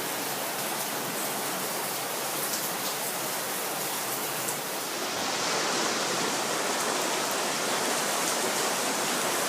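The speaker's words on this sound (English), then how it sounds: "hear that water coming down." Water gushes steadily from a sump pump outlet in a continuous, dense roar like a small waterfall, loud and unbroken, growing slightly fuller partway through.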